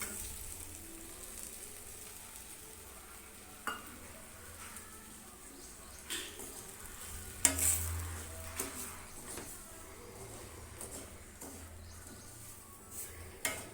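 Rice semolina fries in a pan and is stirred until lightly browned, a quiet continuous sizzle broken by a few scraping strokes and one louder clatter midway, with faint birdsong far in the background.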